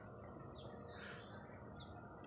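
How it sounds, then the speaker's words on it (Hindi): A trapped pigeon chick gives a few thin, high chirps over a steady background hiss, faint and brief, with no talking. "देख सकते हो कबूतर का बच्चा है यहाँ पर।"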